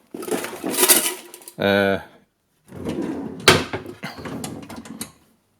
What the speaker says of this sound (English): Pots and pans, I don't know.